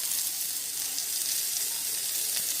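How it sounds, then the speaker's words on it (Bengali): Food frying in a pan with a steady, even sizzle and hiss, continuous and moderately quiet, with no voices or other sounds over it. "তো ভালো করে নেড়ে নেবো, এটাকে ভেজে নেবো একটু ভালো করে।"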